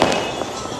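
Fireworks crackling and bursting over Ahmedabad on Uttarayan night, a dense, continuous spatter of pops across a brief moment with no distinct single bang standing out.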